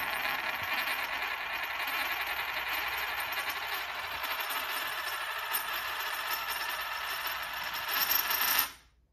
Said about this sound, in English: trying to spin a coin